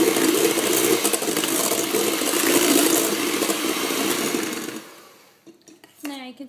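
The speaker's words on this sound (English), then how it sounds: "these are whisked until they form an 8. So that's going to take about 5 minutes." Eggs whisked for a chocolate torte with an electric mixer, a loud continuous whirring drone close by that stops near the end, followed by brief clinks and a short stretch of speech.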